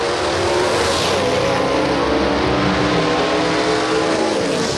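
Classic gasser drag race cars launch down the dragway, engines roaring loud and close in a sustained, rising howl that fills the whole stretch.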